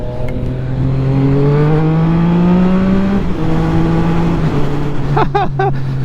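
A 2021 Yamaha MT-09 motorcycle being ridden, its engine holding a loud, steady drone with gently rising and shifting pitch and a few brief chirps near the end.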